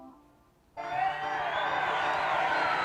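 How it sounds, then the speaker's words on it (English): An audience at an art revival show breaks into sudden applause and cheering, a dense wash of clapping and whoops that starts abruptly and carries on loudly. "please hold your applause to the end"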